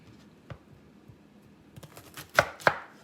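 Knife cutting fennel bulbs in half on a cutting board: a few soft taps, then two sharp, louder chops close by, with no talking.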